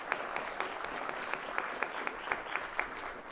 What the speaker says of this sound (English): let's hear another round of applause for these brave individuals who got up here